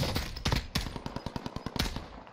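Rapid automatic gunfire in a first-person shooter video game, with dense bursts of close, loud shots followed by a steady rhythmic string of single rounds, no talking.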